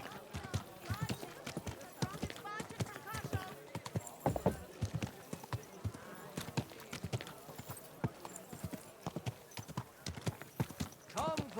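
Horse hooves clip-clopping in the video game Kingdom Come: Deliverance II, a steady run of close, sharp hoof strikes continuing throughout, with voices talking over them.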